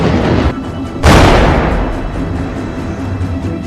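A mine-clearing line charge fired by an anti-mine rocket system detonates in a forest where a Ukrainian army base sits, giving one loud, sudden boom that rolls off into a long, rumbling decay over steady background noise.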